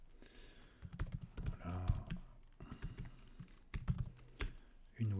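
Someone types CSS code on a computer keyboard in quick bursts of close, clicking keystrokes, with short pauses between runs and a brief spoken word near the end.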